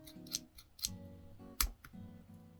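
Folding scissors handled up close, with a few soft metallic clicks and snips spread over a couple of seconds, one sharper click near the middle, over faint low background hum.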